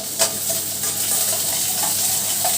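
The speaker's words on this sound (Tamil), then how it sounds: "இந்த எண்ணெயில் அந்த பூண்டையும் வெங்காயத்தையும் கொஞ்சம் நல்லா ஃப்ரை பண்ணி எடுத்துக்கலாம்" Garlic and onion frying in sesame oil for a Chettinad-style fish curry, a steady close sizzle with soft stirring scrapes throughout, no voices.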